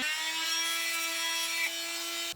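Saw steadily cutting through the plastic front bumper of a Corvette C7, a continuous even grinding buzz with a constant drone that stops abruptly at the end.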